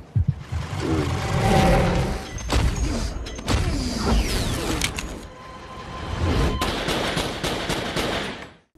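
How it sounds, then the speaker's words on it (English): Gunfire in a film scene as a threatened man shoots, with a dense burst of sharp, loud shots mixed with crashes and impacts that rise and fall over several seconds. "Being threatened, he shoots the gun."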